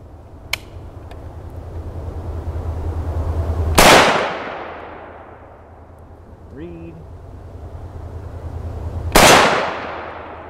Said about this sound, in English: We'll take 2 shots and then check our armor.